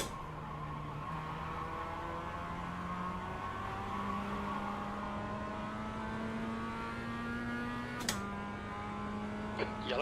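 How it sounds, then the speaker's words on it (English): A BMW race car engine in a sim racing endurance event at Oschersleben drones steadily, its pitch slowly rising, then drops briefly with a click before continuing, faint and in the background. "No, it's just a BMW coming out."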